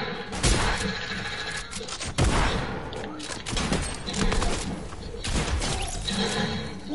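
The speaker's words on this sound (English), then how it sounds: "He's had a pump shotgun and he killed me." Rapid bursts of pump shotgun and other gunfire in a battle royale style video game, dense and loud with sharp repeated shots throughout, under excited talk.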